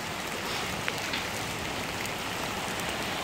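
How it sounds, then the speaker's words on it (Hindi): Heavy rain pours steadily, a dense, constant hiss of drops hitting surfaces, loud and close with no voices. "आप देख सकते हैं कि ये बारिश कितनी तेज़ हो रही है यहाँ पे"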